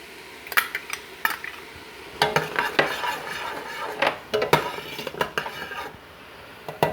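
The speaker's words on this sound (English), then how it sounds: "We're just going to stir that right in there." Metal spoon stirring chopped garlic into minestrone soup in a cooking pot, with irregular clinks and scrapes against the pot sides in quick bursts, close and moderately loud, with no talking.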